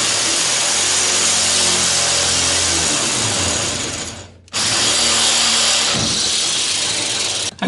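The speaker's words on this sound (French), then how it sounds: "Percé avec un forêt de 8" A power drill with an 8 mm bit bores into the steel body of a Citroën Traction 11B, whining loudly and steadily up close, with a brief pause before drilling resumes.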